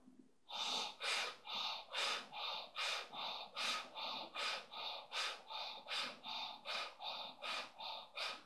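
Bhastrika pranayama breathing: rapid, forceful inhales and exhales through the nose at roughly one per second, about sixteen even breaths in a steady rhythm, close but fairly quiet.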